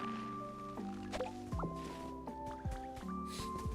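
Flowers being watered in the video game Pokémon Pokopia: soft dripping, squishing splashes sit under steady melodic game music with sustained tones, and several brief liquid plops recur through the passage.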